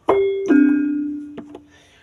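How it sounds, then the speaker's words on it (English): Twinkle bell voice on a Yamaha synthesizer: two bright chiming notes struck in quick succession, each ringing out with a long sustained tone and shimmering overtones, followed by softer sparkling taps fading away, with no talking. "twinkle bell,"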